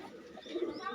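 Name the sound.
pigeons cooing in a pigeon collection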